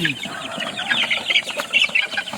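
Several chickens clucking and murmuring nearby in a busy, overlapping chorus.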